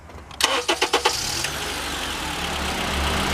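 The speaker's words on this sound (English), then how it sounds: "just a little Acura engine firing on all 4 cylinders" A 2013 Acura TSX Wagon's four-cylinder engine cranks in a few quick pulses, catches, and settles into a smooth, steady idle close by with no talking.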